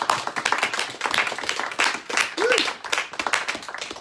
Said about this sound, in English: a big round of applause for Valley Arts and the Montagues